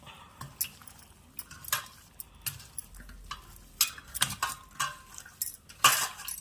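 Chicken curry ingredients and green chillies being mixed by hand in a metal bowl, with scattered light clinks and scrapes of utensil against dish at close range, no talking.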